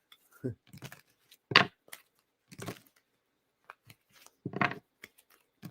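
Tarot cards are shuffled in soft, irregular bursts of riffling and crisp snaps, close and quiet, with gaps of near-silence between them.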